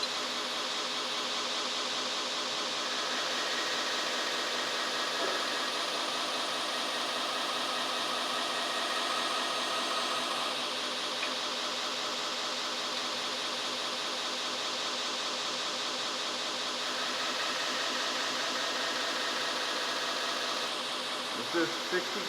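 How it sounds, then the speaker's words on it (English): Belt grinder with a 60 grit belt grinding steel along scribed lines, a steady continuous broadband hiss and whir held at even loudness throughout, with only slight shifts in tone as the work moves. "I'm going to grind right up to that scribe line, or just before it, before I change to the next grit."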